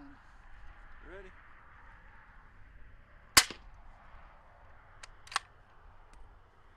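A single suppressed shot from an 8-inch 300 Blackout bolt-action rifle fitted with a Thunder Beast suppressor gives a sharp crack, then a fainter secondary report follows shortly after. The gunfire is heard outdoors amid faint background voices.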